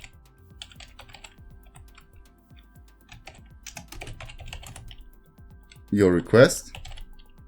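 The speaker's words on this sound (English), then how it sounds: "We'll type it in here" Keys clatter on a computer keyboard in quick irregular bursts, a soft close tapping under a voice that speaks, with a couple of louder noises near the end.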